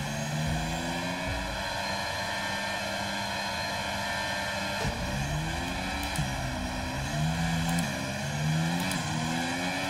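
Formula 1 race car engine in the F1 2023 video game, held at high revs of roughly 11,000 to 12,000 rpm on the starting grid. A loud, steady, buzzing whine with rising and falling pitch sweeps as the throttle is blipped.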